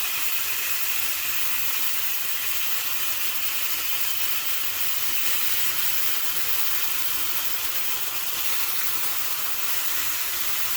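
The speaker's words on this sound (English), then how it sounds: "I just love the sound that this makes as soon as it hits a hot griddle" A breakfast sandwich ingredient sizzling on a hot griddle, a loud, steady, bright hiss that runs unbroken and close up, with no voices.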